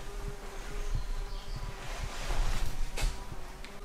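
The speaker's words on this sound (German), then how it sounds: "Da ist ein übertrieben fettes Vieh hinten, was übertrieben summt." A large buzzing insect in an abandoned building from 1876, droning faintly and continuously for a few seconds amid rustling background noise.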